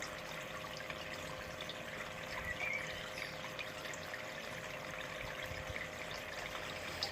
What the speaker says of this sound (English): Obviously, water's just building up enough pressure to come around.